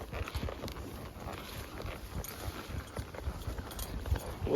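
Draft horses walking a wooded summer trail, hooves giving soft, irregular clops at close range, partly masked by rustling and broadband outdoor noise.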